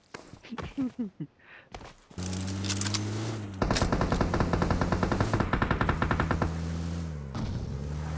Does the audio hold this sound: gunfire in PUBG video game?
yes